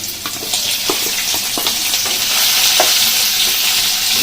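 Chopped ginger and green chili frying in oil with cumin, a loud, continuous sizzle punctuated by repeated spatula scrapes and taps that grows slightly fuller toward the end.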